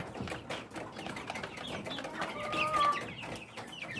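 Rhode Island chicks about six weeks old cluck and peep close by in a farm pen, giving short soft calls throughout with one clearer chirp near the end.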